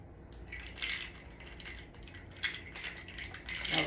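A spoon stirs a summer Old Fashioned cocktail in a chilled glass, giving light, close metallic clinks and scraping rattles in irregular bursts with no talk.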